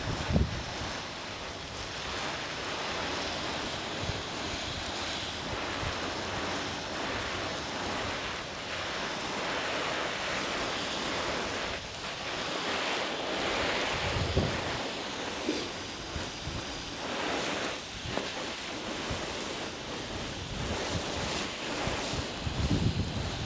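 Water sprays steadily over an onion plot spread with animal manure, in Canada, making a continuous close hiss with bursts of wind noise and no talking.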